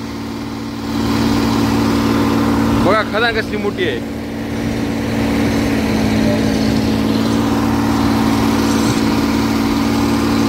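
Heavy dump trucks work at a quarry, their diesel engines droning in a steady, loud, low hum heard from a distance, while someone talks briefly over the noise.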